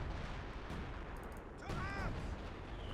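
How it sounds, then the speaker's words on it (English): Artillery and gunfire rumble in a 4v4 Company of Heroes 2 battle, a steady dense barrage with a sharper burst partway through, under faint talk. "right now artillery is just laying waste to this area"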